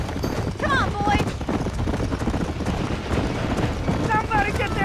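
Horses panicking in a burning barn in the video game Red Dead Redemption: hooves clatter continuously with a few whinnies over a dense roar of fire and commotion, with shouting voices mixed in.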